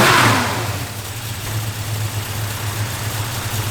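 A 1952 Chevrolet 3100 with a mild cam rumbles close by, starting with a quick rev that settles into a steady, lopey low idle.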